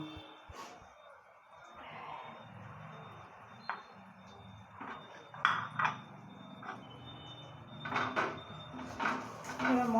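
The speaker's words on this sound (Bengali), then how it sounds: "মশলাটা মা নেড়ে নেবে" Spices, including red chilli powder and salt, are stirred in a metal cooking pan for a Bengali pepper bora dalna. Close, irregular scrapes and clinks of the utensil on the pan come and go, with a faint voice now and then.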